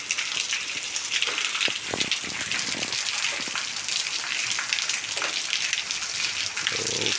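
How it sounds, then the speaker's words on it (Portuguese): Steady rain falls in Picuí, Paraíba, in the Brazilian sertão, a dense continuous hiss of drops on surfaces that holds even throughout, with a few sharper splashes near and no voices. "Tá aumentando a chuva."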